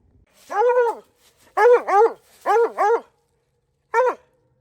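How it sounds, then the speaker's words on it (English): A coonhound barks out in the open on a coon hunt: a long drawn bark, then paired barks twice, and a final single bark, clear and fairly near, with its echo. "His own bark's echo."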